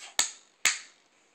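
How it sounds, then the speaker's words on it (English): A young child claps along to a song at home, two sharp, isolated claps spaced about half a second apart, each ringing briefly in a quiet room. "If you're happy and you know it, clap your hands."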